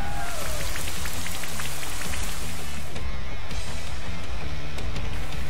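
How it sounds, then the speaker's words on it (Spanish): Rain Dance move in the Pokemon Sword and Shield video game: steady rain pattering on a surface with scattered droplets, continuous and fairly loud with a low rumbling bed, no talk. "Que llueva, siente como la fría lluvia y te refresca."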